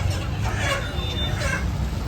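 Roosters tied onto a vehicle give clucks and a faint crow over loud, steady road and engine rumble, heard briefly and from close by.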